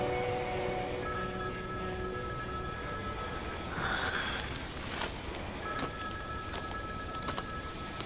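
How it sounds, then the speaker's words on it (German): Telephone bell ringing in an indoor scene from a German-dubbed soap opera, a faint electronic trill heard in a few short bursts over steady background hiss, with no talking during the rings. "Gehen Sie nicht ans Telefon?"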